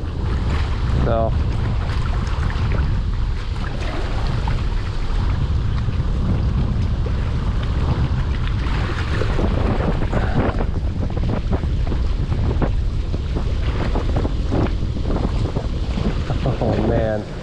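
Strong wind roars steadily across the microphone on open water during a snowstorm while bass fishing, a loud continuous buffeting rumble with a brief spoken word near the end.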